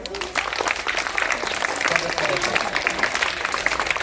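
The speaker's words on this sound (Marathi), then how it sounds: "त्याबद्दल त्यांचे तुम्ही टाळ्या वाजून" Audience clapping at a village gathering honouring someone who returned a lost gold ring, a steady, dense patter of many hands that carries on loudly without breaks.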